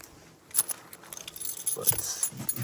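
Keys jangle in a pocket in several short, close, metallic bursts that grow busier toward the end.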